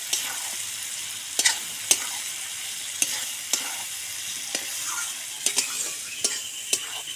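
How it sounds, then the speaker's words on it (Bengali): Eggs are stir-fried in spiced masala in a pan, with a steady soft sizzle punctuated by sharp spatula clicks against the metal every second or so. "এবার আমি এই যে ডিমটা দিয়ে আরেকটু কষিয়ে নেব।"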